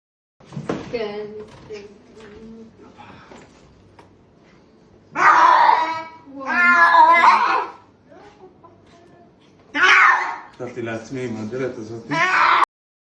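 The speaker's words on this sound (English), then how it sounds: "That cat isn't meowing, it's yelling" A cat lets out loud, drawn-out yells that sound like a mix of a yell and a roar rather than ordinary meows, in several long bursts separated by quieter stretches with a voice talking.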